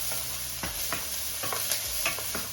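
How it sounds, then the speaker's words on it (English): Onions fry in oil in a pan, a steady sizzle punctuated by repeated scraping strokes of a utensil stirring them, close and fairly loud, with no speech. "Got onions in there. I need my onions to brown though."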